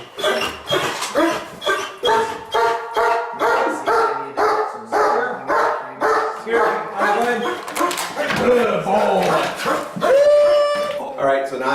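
A police dog barks in a steady, rapid series during a suspect apprehension, loud and close, with people shouting over and between the barks throughout.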